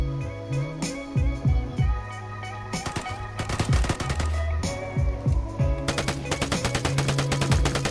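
Carbine fire in a shooting video game, loud rapid bursts of shots in quick succession with short gaps, rattling along under game music and effects with no talk.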